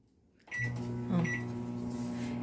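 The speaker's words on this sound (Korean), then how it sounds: "이 상태에서 전자레인지 돌려줄 거예요" A microwave oven starts up and runs with a steady electric hum and low drone, with a brief beep and faint clatter near the start, while heating rice dough for homemade strawberry mochi.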